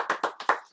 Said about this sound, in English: Guys, round of applause for Kelly.